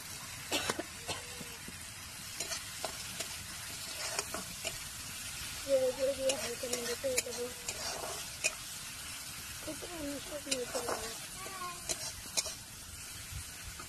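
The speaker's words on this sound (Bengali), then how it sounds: "মশলাটা ভাজা হয়ে যাবে।" Spice paste sizzles and fries in oil in a pan while being stirred for a shapla and fish curry, with steady scraping stir strokes throughout and a few brief coughs in the background.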